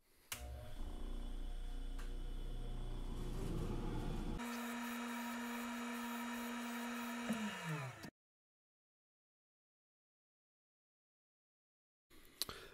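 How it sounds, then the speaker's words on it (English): A motor-driven scotch-brite wheel deburring a steel knife blade: a loud, steady whirring hum with abrasive hiss that winds down in pitch and stops, leaving silence before a brief final noise. "Now I'm going to take the scotch-brite wheel again to de-bur this."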